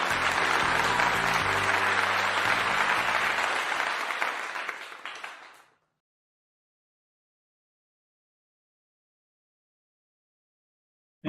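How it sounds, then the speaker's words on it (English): A conference audience gives a steady round of applause that fills the room, then fades away into silence after about five seconds. "let us all give a round of applause to the Vice President of PhilCeCNet, Professor Pierangelo B. Alejo."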